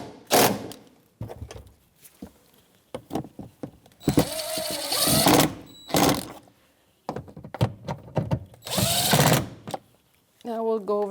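A socket wrench tightens the tail light bolts on a 2013-2018 Toyota RAV4, with rapid ratcheting bursts and clicks separated by quieter gaps while someone talks in between.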